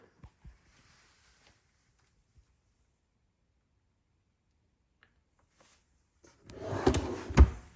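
A workshop drawer slides and knocks shut with a close, rumbling scrape and thud near the end, after faint small clicks and handling noises in near quiet.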